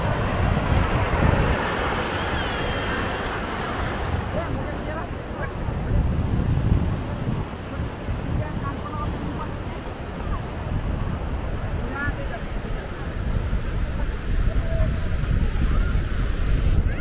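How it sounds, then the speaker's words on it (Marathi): Sea waves at Devbag Sangam Point beach in Malvan, Konkan, wash steadily ashore with heavy wind buffeting the microphone, a continuous loud roar of surf throughout. "समुद्राच्या लाटा बघू शकता किती क्लिअर आहेत."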